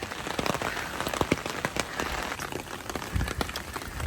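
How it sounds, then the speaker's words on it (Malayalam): Heavy rain pouring steadily in Japan, a dense, continuous patter of drops striking hard surfaces up close, with scattered louder splats and no voices. "അത് നല്ല മഴ പെയ്യുന്നുണ്ട്."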